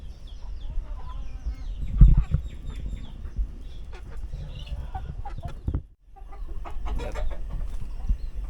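Chickens cluck and call steadily around a poultry-raising yard, several birds close by with one sharper burst, a brief lull, then more clucking amid the ambient farm noise.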